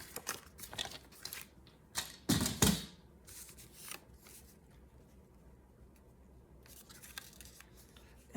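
Scissors cutting a 4 by 4 inch square of patterned paper point to point into triangles for a handmade folio, a few short crisp snips and rustles close by with quiet pauses between.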